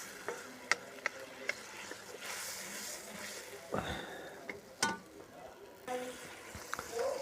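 Masala roasts in oil for a matar mushroom curry, heard as a faint sizzle broken by sharp clinks and scrapes of stirring, with occasional soft background noises.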